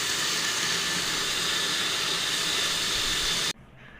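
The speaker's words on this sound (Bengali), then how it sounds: "ব্লেন্ড হচ্ছে।" An electric blender grinds chopped onions with a little water, a loud steady whirring roar that cuts off abruptly near the end, leaving quiet room noise.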